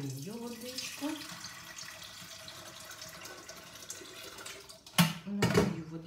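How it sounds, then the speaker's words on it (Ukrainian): Water is poured into a cooking pot of stuffed cabbage rolls, heard as brief close splashing bursts near the end after quieter kitchen background. "Зараз я долию водичку."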